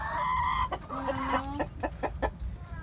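Fighting chickens cluck close by in a short burst, with a drawn-out call followed by several quick, rhythmic clucks, no voices.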